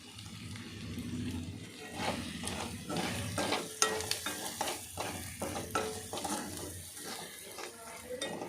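Green chillies with garam masala fry and sizzle in a pan while a utensil stirs and scrapes in steady, close strokes.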